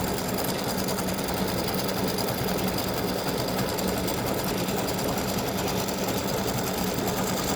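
Embroidery machine stitching a freestanding lace heart earring design, a steady rapid mechanical needle chatter with an even buzzing hum, running continuously and close with no voices.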